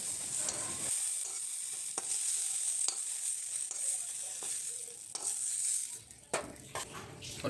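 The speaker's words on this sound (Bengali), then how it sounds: "ওই কড়াইয়ে একটু তেল দিয়ে ভেন্ডিগুলোকে লবণ আর হলুদ দিয়ে ভেজে নেব" Okra frying in oil in a wok with salt and turmeric gives a bright steady sizzle, broken by regular scraping stirs and occasional spatula knocks against the pan, up close with no talking.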